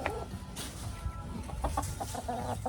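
Chickens squawk and cluck inside a homestead coop, with a busy run of overlapping calls, close and fairly loud, and no talking.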